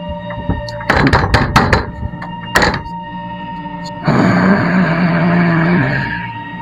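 Knocking on a door in an old haveli: a quick cluster of loud, sharp knocks, then a single knock, followed by a sustained rough, rumbling noise.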